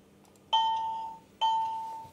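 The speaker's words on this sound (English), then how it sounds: "It's nice, I guess, to be able to push a button and have a bell ring or whatever." Two electronic bell chimes from a Bachmann GG1 model electric locomotive with onboard sound, each a bright ring that fades slowly, the second following about a second after the first, heard alone and fairly quiet.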